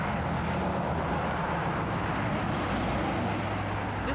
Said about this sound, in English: Motorway traffic.